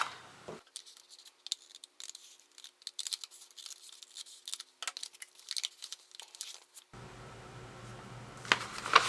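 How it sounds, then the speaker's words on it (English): Scissors work through a paper grocery bag in short, sharp snips and crinkles, close and fairly quiet, separated by brief silent gaps, with paper rustling at the end. "we will cut this part only"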